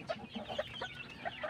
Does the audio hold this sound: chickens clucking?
yes